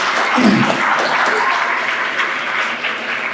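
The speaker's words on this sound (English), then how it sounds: "We get a round of applause for all of our vendors." A town hall audience breaks into loud, sustained applause for the event's vendors, dense clapping from a crowd that holds steady for a few seconds without fading.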